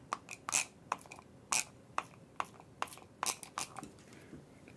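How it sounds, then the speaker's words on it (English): A spray bottle spritzes paint dots onto watercolor paper in a string of short, sharp, hissing puffs at an irregular rhythm, each burst close and crisp against a quiet background. "put in some dot spray with the"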